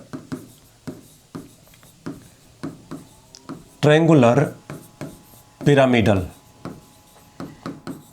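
Marker or chalk scratching across a board during a chemistry lesson on amines, with short rubbing strokes between bursts of a teacher's speech.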